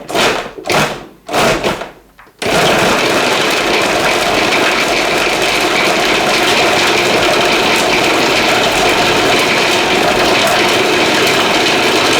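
A food processor chopping meat for a savoury stuffed bread filling. After a few short pulsed bursts it runs as a loud, steady motor whir with no talking.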